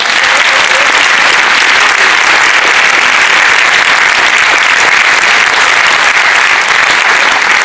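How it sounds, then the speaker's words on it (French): An audience at a national amateur theatre festival awards ceremony bursts into dense, loud, sustained applause that continues unbroken throughout. "on les applaudit très fort"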